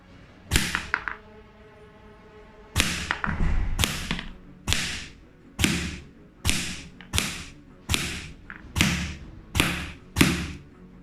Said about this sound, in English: That's the middle, couple shots.